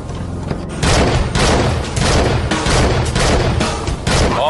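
Heavy gunfire in a film battle scene, a rapid barrage of loud shots and booming thuds that rolls on almost without pause, with no talking over it.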